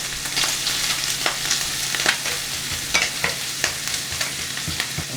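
Garlic hitting a hot pan of crisping bacon for a creamy garlic prawn pasta, a steady close sizzle broken by repeated sharp scrapes and clinks of stirring, no talk.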